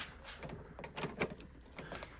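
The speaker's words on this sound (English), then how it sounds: "all of the door locks have worked" Car door locks actuate through a vacuum system, giving a series of short mechanical clunks and clicks at moderate distance over a quiet background, several in quick succession.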